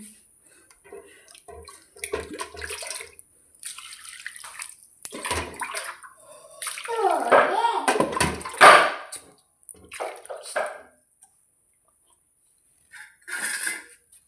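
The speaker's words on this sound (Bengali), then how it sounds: "তো মাংসটা এখানে ধুয়ে নিই ভালো ভালো করে" Chicken meat is washed under running water, with intermittent splashing and trickling plus clinks of a pot or dish, close by and in separate bursts.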